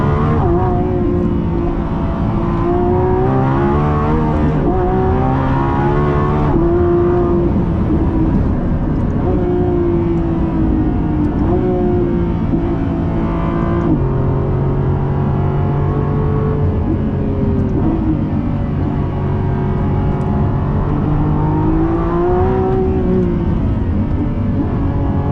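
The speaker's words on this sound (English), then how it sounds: "when we get to the top of the hill, we'll do a launch control so I can show you what that's all about" A Lamborghini Revuelto accelerates hard from a launch-control start, its engine note climbing steadily through rising revs with brief dips at gear changes, loud and close from inside the cabin, with no talking.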